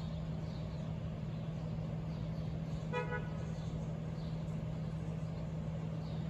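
A school bus idles at its stop with a steady low engine hum close by, broken midway by one short, bright horn toot.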